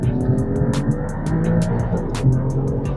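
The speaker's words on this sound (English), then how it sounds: "And that noise, that exhaust system, and this is the standard one." An Alfa Romeo Giulia Quadrifoglio with its standard exhaust roars loudly and close under hard acceleration, punctuated by a rapid series of sharp crackles and pops, with no one talking.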